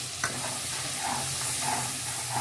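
Ground spice paste for a cauliflower curry hits hot oil and sizzles steadily, with a brief utensil tap near the start and soft stirring scrapes throughout.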